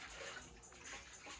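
Water runs steadily from a tap fed by a newly installed water heater in a house, a soft continuous rushing hiss that stays even and fairly quiet, with no voices.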